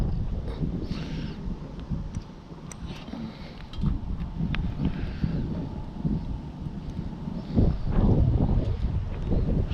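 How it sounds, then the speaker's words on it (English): Wind blowing steadily at an outdoor campsite at night, a continuous low rumbling buffet across the microphone that rises and falls in gusts, strongest near the end, with no speech. "Still got a bit of wind out here."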